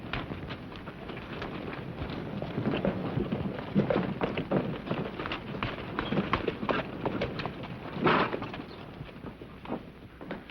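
Horse hooves clopping steadily on hard ground, a continuous rhythmic beat with wind noise over the microphone, moderately close.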